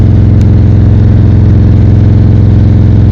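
A motorcycle engine runs with a steady, loud low throb and an even pulsing rhythm that holds throughout, close by and with no talk.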